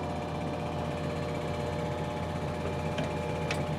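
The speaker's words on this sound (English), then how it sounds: "I think I'll need to turn the tractor off." A tractor engine idles steadily nearby, a continuous low rumble and mechanical whir with a couple of faint clinks near the end and no talking.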